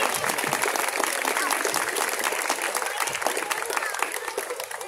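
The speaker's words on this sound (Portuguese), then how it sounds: "Palmas pra ela, pessoal," Lively crowd applause and cheering for a contestant at an adult cosplay contest during a Bon Odori festival in São Bernardo do Campo, steady dense clapping throughout with crowd voices mixed in.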